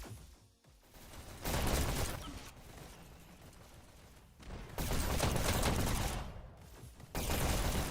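Rapid gunfire from a Dash League match between ACLT and DRGN, heard as fast, dense bursts of shots in several loud stretches separated by quieter gaps.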